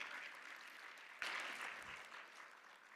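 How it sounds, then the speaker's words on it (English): Faint, distant audience applause for a speaker at an arts and humanities conference session, a soft even patter of clapping with a slight swell partway through. "Give Datuk a big applause."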